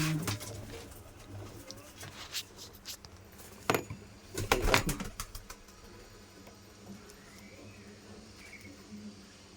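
Pigeons coo softly in a hot pigeon loft where squabs have just hatched, low repeated cooing close by with a few wing flutters and clatters midway, alongside faint insect chirring.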